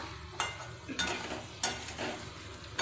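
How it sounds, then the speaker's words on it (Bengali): Potato and prawn curry is stirred and sautéed in a pan with onion, garlic and spices. A soft, continuous sizzle runs under several sharp scraping strokes of a spoon against the pan, with no talking. "এবার ভালো করে কষিয়ে নেব।"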